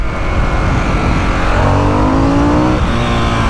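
A motorcycle engine in sport mode, in Japan, revs hard and close, its pitch climbing steadily as it accelerates with a throaty growl.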